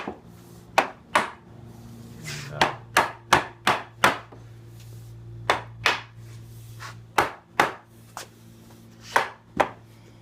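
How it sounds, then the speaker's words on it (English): A hammer and mallet tapping wooden plantation shutter parts together during assembly, giving sharp, close knocks that come singly and in quick bursts of three or four across a quiet room with a steady low hum. "hammer and mallet, tap them together"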